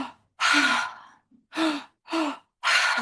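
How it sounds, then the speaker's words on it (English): Open-mouth breathing exercise: a long two-stage inhale into the belly and then the chest, followed by a breathy exhale, repeated in close, audible gasping breaths with short pauses between them. "This is an open mouth breathing technique."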